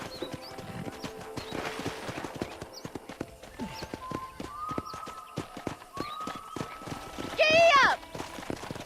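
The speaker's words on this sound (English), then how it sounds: "Okay, let's see if you can still ride a horse." Horse hooves clip-clopping at a quick pace in Red Dead Redemption, the rhythmic beats running steadily under game ambience with a brief neigh near the end; a voice speaks over it.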